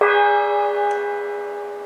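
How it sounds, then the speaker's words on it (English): A gong struck once with a mallet during an outdoor sound-energy lesson at a nature foundation rings with a bright metallic tone that hums steadily and fades slowly. "I'm going to hit the gong with my mallet, and Sarah is going to explain what she sees"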